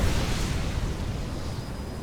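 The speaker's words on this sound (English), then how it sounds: "Such a pretty explosion." In StarCraft 2, a nuke detonates with a loud, deep rumbling boom that rolls on and slowly fades over a couple of seconds.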